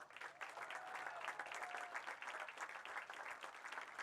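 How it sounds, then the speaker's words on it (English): Crowd applause for senior players at a boys high school soccer game, a distant, thin clapping heard from the stands for several seconds. "Let's give them all one last round of applause."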